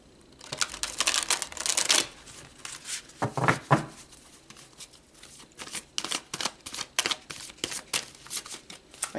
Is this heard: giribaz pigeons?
no